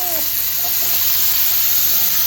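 Mango pickle spice mix dropped into a hot pan of oil with browning garlic, giving a loud, continuous close sizzle and hiss throughout, with a faint voice briefly at the start.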